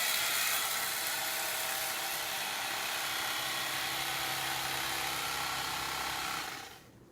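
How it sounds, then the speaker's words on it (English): A plain Black & Decker electric knife buzzes steadily as it saws through deep Tempur-Pedic king-size mattress foam. The loud, even motor whine runs for about six seconds, then cuts off and fades. "A Black & Decker, just a plain old electric knife."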